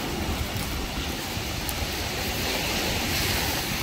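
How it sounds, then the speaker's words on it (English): Strong, high ocean waves crash on the beach at Dingalan, Aurora, Philippines, a loud continuous roar of surf with no pauses, close to the listener and with no talk. "Gosh, the waves are really high."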